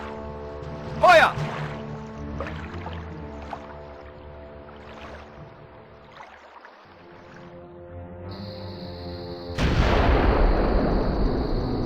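Cannon fire inside the Agatha Christie: Evil Under the Sun game, with one sharp boom near the start and a heavy blast later, set among game sounds and a shouted voice.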